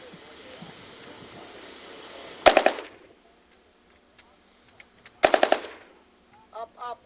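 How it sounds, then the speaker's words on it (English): An RPK light machine gun fires two short, loud automatic bursts outdoors at a live-fire demonstration range, separated by quiet pauses, with faint distant pops trailing afterward. "why don't you give us a burst with your RPK?"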